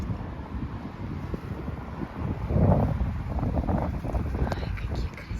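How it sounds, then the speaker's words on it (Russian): Strong wind gusting outdoors on a northern summer evening in Ukhta, Komi Republic, a steady broadband rush that swells louder midway, with a few faint knocks and a voice speaking in the background. "Ветер сильный"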